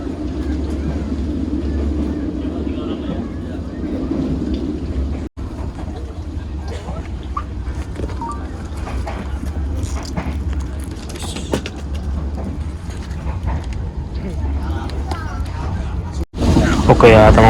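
A PSO passenger train, the KA Airlangga, runs fairly fast past Sragen station, heard from inside as a steady, loud low rumble with rattling that cuts briefly near the end.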